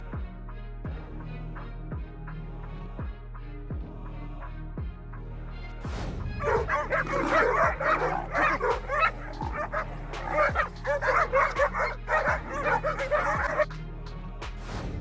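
Yard dogs confronting a leopard bark, yip and whine in rapid, agitated bursts that grow louder partway through, all set over a steady rhythmic music beat.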